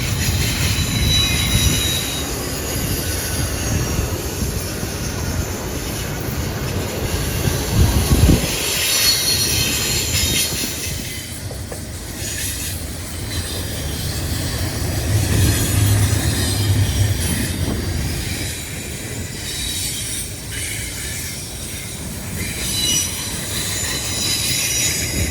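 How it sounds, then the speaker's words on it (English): A long CSX freight train with a distributed power unit rolls past on the Henderson subdivision between Nashville and Evansville, wheels squealing and cars rumbling steadily for the whole stretch, loud and close with no talk. "a DPU, it stands for Distributed Power Unit. It gives better handling to the longer trains"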